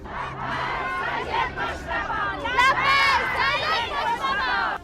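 Large angry crowd chanting and shouting in unison at a mass funeral procession in Iran, a dense roar of many voices rising and falling steadily throughout.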